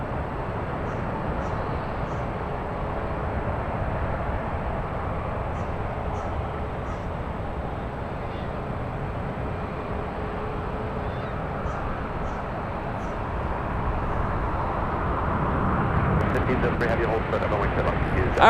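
Boeing 787-9 Dreamliner taking off from San Francisco, heard as a broad, steady jet roar at a distance that swells slightly toward the end, with someone talking briefly at times.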